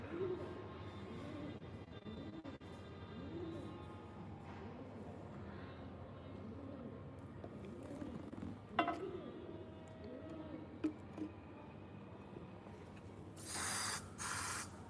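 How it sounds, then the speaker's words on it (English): Mosquito repellent spray hisses in two short, close bursts near the end, after a long stretch of quiet early-morning ambience with faint ticks and scattered small sounds. "Just a bit more mosquito spray on the go."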